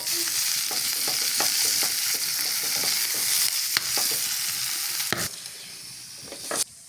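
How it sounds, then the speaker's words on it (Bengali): Dried chilies fry in oil for a mashed chili bhorta, with a continuous close sizzle broken by repeated spoon stirs and scrapes, ending with a few sharper clacks. "মরিচটা এখানে তেলে ভেজে নেওয়া হচ্ছে ভর্তার জন্য।"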